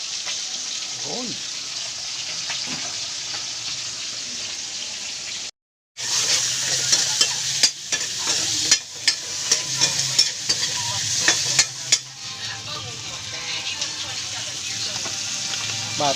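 Bilong-bilong fish frying in a pan, loud continuous sizzling with clinks and stirring scrapes, a brief silence partway through, then sizzling resumes with occasional sharp pops.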